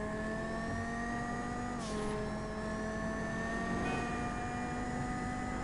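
The Bravado Banshee 900R sports car engine in GTA V hums at a steady pitch and climbs as it shifts, a continuous droning tone held throughout with no voices.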